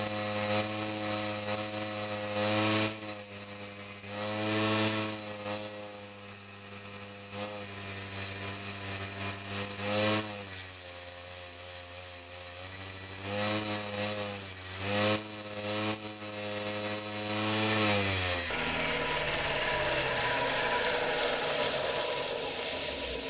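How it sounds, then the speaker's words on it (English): A wooden fruit bowl spins on a woodturning lathe while being sanded with 150 grit sandpaper. The motor hums steadily, with a light, rhythmic rubbing hiss that swells and fades as the paper touches the wood, then a broader whir near the end. "You don't have to put much pressure on when you're sanding, just a very light touch."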